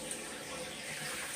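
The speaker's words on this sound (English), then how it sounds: "Now, turning the water back on." Water turned back on to a running toilet after a fill valve replacement, the tank refilling with a steady, close hiss and rush of flowing water, unbroken by talk.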